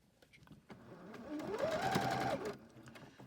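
A sewing machine stitching small fabric snippets together, starting with a few clicks, then running in a rising, steady whir for about two seconds before slowing to a stop, close and fairly quiet.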